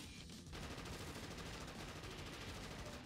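Sustained machine gun fire in the strategy war game Crisis, a dense continuous rattle over a few seconds, quiet and distant, with a brief break at the very start.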